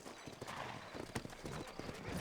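Horses clip-clopping in the Western video game Red Dead Redemption, with a steady run of hoof strikes on a dirt street in a frontier town, moderately close and heard alone over a dense background.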